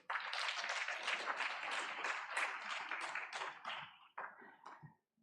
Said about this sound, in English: I think we can welcome them with a round of applause